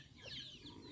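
Chickens clucking near a canal on a farm, several close, soft calls overlapping in a steady low chatter with no voices.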